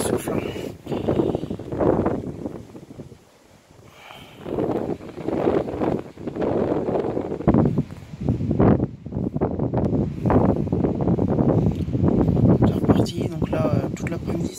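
Strong gusts from storm Carmen in Le Mans, around 75–80 km/h, roar in surging waves of blustery noise close to the microphone, with rustling and buffeting throughout.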